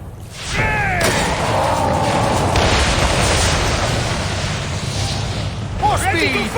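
Naval battle in the Assassin's Creed video game, with cannon fire and explosions rumbling as a loud continuous roar under shouting voices, with a sharp burst at the start.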